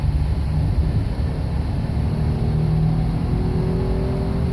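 A 2017 Honda Ridgeline pickup accelerating while merging onto a highway, heard from inside the cabin as a steady loud engine drone with rising pitch mixed with road and wind noise.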